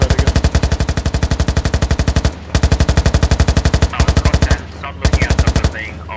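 A tank commander's mounted machine gun fires in the game Squad, loud close bursts of rapid, evenly spaced shots, three long strings broken by short pauses, with a voice talking faintly underneath.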